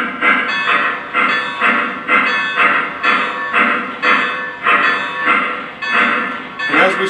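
Bell on a Y-3 Legacy 2-8-8-2 model train locomotive ringing automatically, a loud, steady series of evenly spaced metallic clangs, about two per second, continuing throughout.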